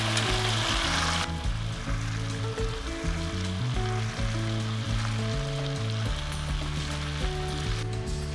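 Chicken pieces fry in hot oil with a continuous hiss and crackle, while a steady tonal background hum runs underneath the whole time.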